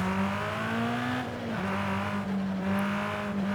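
A car accelerating in the racing game Forza Horizon 5, its engine holding a steady, loud drone with a brief dip as it shifts gear before pulling on again, heard alone.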